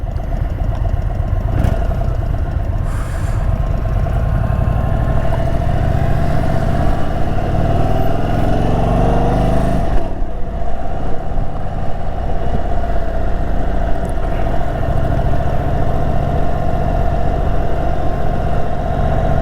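An Indian Super Chief motorcycle idles close by with a steady, thin and slightly tinny engine drone that holds loud and even the whole time, with a brief rev swell midway.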